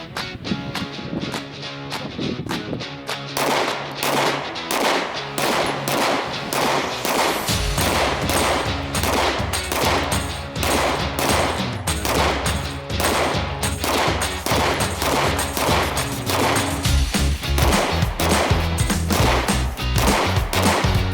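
Handgun shots fired at targets crack in a rapid, near-continuous barrage of loud, close reports that barely pause across the whole stretch.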